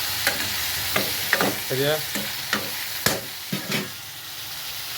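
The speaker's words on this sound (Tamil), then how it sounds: "உப்பு போட்டு ஒரு கிண்டுறோம்" Vegetables being stirred with salt in hot oil, steady frying sizzle broken by repeated spoon scrapes against the pan, close and moderately loud, with a brief spoken word.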